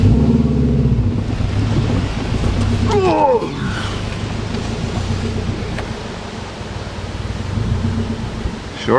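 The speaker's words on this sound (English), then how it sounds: "Sure is windy today." Strong wind buffeting outdoors beside a Subaru Legacy, a loud continuous broadband rush and rumble lasting throughout, with a faint whine rising briefly partway through.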